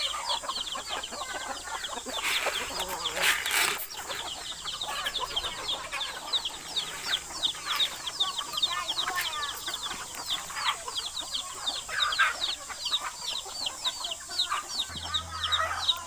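Steady, dense clucking and chattering comes from a home flock of chickens in Thailand, with a rooster and young growing birds, continuous and fairly close, with a few brief knocks and no talking.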